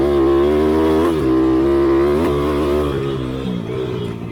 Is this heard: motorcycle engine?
yes